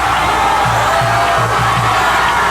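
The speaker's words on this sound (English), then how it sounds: "then you will hear a home crowd erupt" A home crowd at a 1999 high school football playoff game roars in sustained cheers and shouts, loud and continuous throughout, with whoops rising from the mass of voices.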